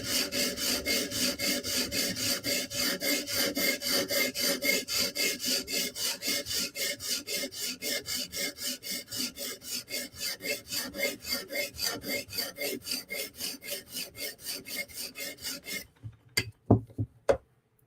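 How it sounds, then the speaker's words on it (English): A Bestech Tanto knife blade is drawn across a sharpening stone in a steady, rhythmic series of rasping strokes, close and even, ending with a few separate scrapes after a brief pause. "Sharpen that shit off"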